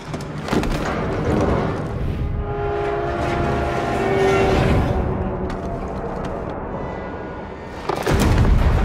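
A train car rolls on rails in the CrossfireX video game, a loud continuous rumble and clatter with squealing metallic tones and heavy booming impacts near the end.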